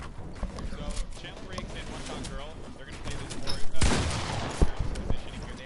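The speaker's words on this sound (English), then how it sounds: "I hear gunshots, but it's just a World Cup thing" Gunfire from Fortnite World Cup gameplay rattles in sharp bursts, with a louder volley near the middle and a smaller one later, while a person talks over it.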